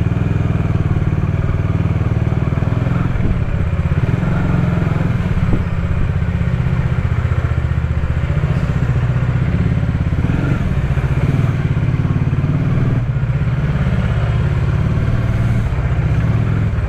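Bajaj Dominar 400 motorcycle (2019) ridden at low speed, its steady engine rumble continuous and close throughout with occasional clatter and thumps, no talking.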